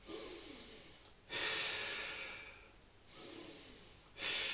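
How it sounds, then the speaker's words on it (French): Deep breaths taken on knees during a beginner ab workout rest, two loud breathy bursts with a long softer exhale between, no talking. "on prend une ou deux respirations profondes"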